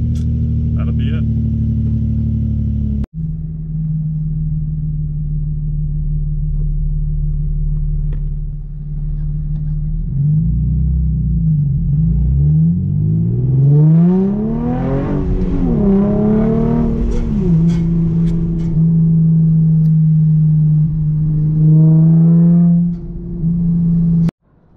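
Nissan 350Z driven on canyon roads: a steady engine drone fills the interior, rising and falling through gear changes with a couple of rev swells, while people talk over it; the skid plate is said to scrape the ground.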